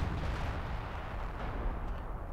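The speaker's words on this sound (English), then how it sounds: "that field gun barrage, or field tower to barrage, is completely whiffed here by Login" An artillery barrage in Company of Heroes 2, a dense rumbling roar of distant explosions rolling on steadily without clear individual blasts.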